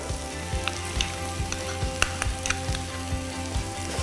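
Butter sizzling and frying steadily in a street-style Mumbai pav bhaji pan, with continuous close crackle and occasional stirring scrapes, no talk.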